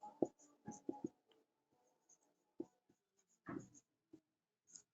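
Pen writing out a maths solution on paper, quiet intermittent scratchy strokes and taps in short bursts separated by pauses, close and faint.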